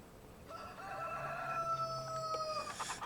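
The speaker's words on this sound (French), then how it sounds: "Là, j'ai encore des poules." A rooster crows one long, clear call among hens on a small farm, with soft background clucking and farmyard ambience around it.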